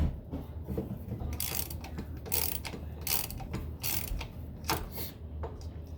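A ratchet wrench clicks in several bursts while tightening parts on a Briggs & Stratton engine during reassembly, with bright rapid ratcheting strokes coming and going over a low background hum.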